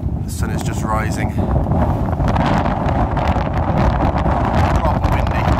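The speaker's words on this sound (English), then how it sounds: "Proper windy." Strong wind buffeting the microphone on Pen-Y-Fan mountain at sunrise, a loud continuous rumbling gust with rustling bursts throughout.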